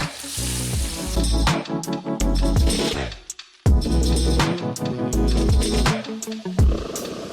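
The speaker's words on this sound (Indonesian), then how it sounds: "Nah, ini kalau minyaknya sudah panas, kita masukkan udangnya." Shrimp dropped into hot oil for sambal shrimp, sizzling and crackling loudly and steadily close by, with a brief dip partway through before the frying noise surges back.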